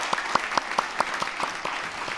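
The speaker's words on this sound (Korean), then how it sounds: "우리 격려 박수 한번 하겠습니다" A church congregation claps in encouragement for honored elders and retirees at a Sunday afternoon service, a steady, even-paced round of hand claps that stays moderately loud and close for the whole moment.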